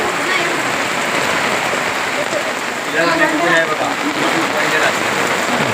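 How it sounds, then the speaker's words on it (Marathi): Dense, steady rain pouring down at Vijaydurg fort in Konkan, a continuous hiss with brief faint voices partway through. "पावसाचं प्रमाण थोडं वाढलं आहे"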